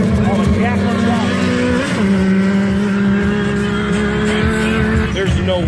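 A race car roars past at a motorsport event, loud and sustained with a shifting engine pitch and a brief tire squeal, while people talk over it.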